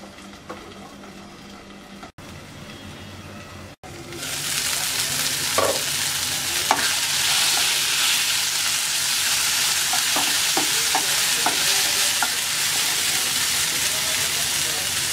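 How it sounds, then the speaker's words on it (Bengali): Eggplant fries in oil for a sour-spicy bhorta, starting quiet and then breaking into a loud, steady sizzle with repeated stirring scrapes close by. "পাঁচ মিনিট পর বেগুনটা অনেকটা ভাজা হয়ে গেছে।"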